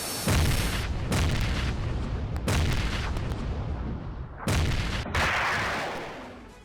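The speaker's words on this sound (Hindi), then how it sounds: "यूक्रेनी MiG-29 से बरसा रहा हैमर बम और बमबारी में रूसी सेना का ठिकाना नष्ट हुआ है।" Heavy airstrike blasts from a Ukrainian MiG-29 dropping Hammer bombs, a series of four or five loud, booming explosions with rumbling decay between them, with no talking.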